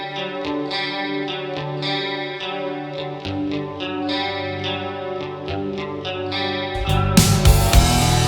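Clean electric guitar picks out a shimmering, warbling melody with a chorus effect from an H3000 effects unit, plus a little reverb, ending in a loud, noisy burst of strummed chords.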